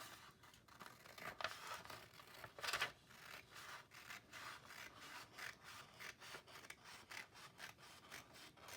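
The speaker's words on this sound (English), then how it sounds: "you're going to take your scissors and you're going to cut down the middle" Scissors snipping down the middle of paper during a first-grade drawing lesson, a quiet series of rhythmic rasping cuts, close and soft, with no voices.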